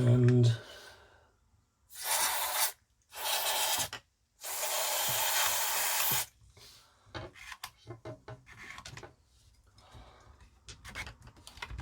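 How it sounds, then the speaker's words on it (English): Switch cleaning lubricant sprayed onto a 1990 Boots SRR 17 radio cassette comes out in three loud, close aerosol hisses of a second or two each, followed by quieter handling rustles. "I've got some switch cleaning lubricant here"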